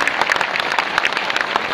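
A rally crowd claps in a dense, steady patter of many hands, loud and close, with no pause across the short stretch.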